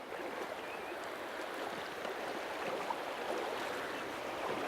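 Trout stream water flowing steadily in a river, a continuous close rushing and burbling wash with no pauses and no voices.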